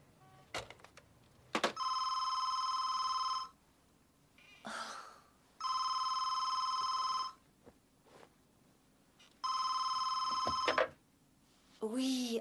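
A telephone rings in three long, loud electronic bursts separated by pauses, with scattered thumps and faint movement sounds in between.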